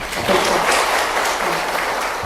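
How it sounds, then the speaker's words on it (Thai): Steady clapping from an audience at a grant ceremony in Thailand, a close, fairly loud patter of many hands that holds evenly for a couple of seconds. "ขอเสียงปรบมือเพื่อเป็น การขอบคุณท่านอีกครั้งหนึ่งค่ะ"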